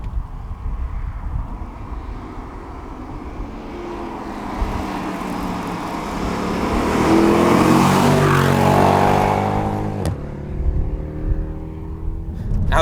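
A 2010 Mercedes E63 AMG with an LPG-converted V8 accelerating hard, the engine note rising through the revs and then dropping sharply on a gearshift before pulling again, loud and close.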